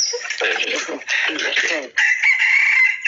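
A voice imitates a rooster's crow during a playful party game, giving three loud, strained, nasal crowing bursts in quick succession.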